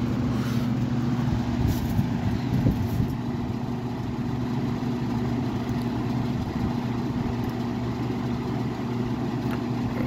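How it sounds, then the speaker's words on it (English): Vintage Edison model 204001B electric fan running steadily, a continuous close motor drone and airy whir with faint occasional ticks, no voices. "It's a good running fan."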